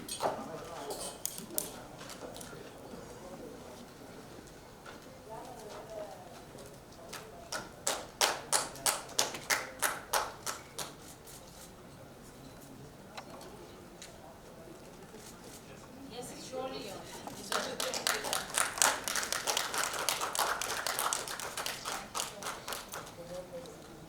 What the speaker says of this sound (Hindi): जोरदार तालियां लेडीज एंड जेंटलमैन दीपशिखा जी के लिए